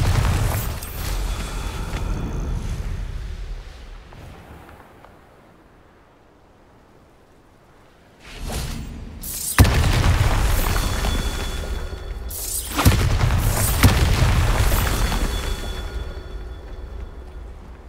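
Bombarda spell explosions in the video game Hogwarts Legacy boom loudly, a heavy rumbling blast fading out, then after a quiet pause two more roaring bursts in quick succession.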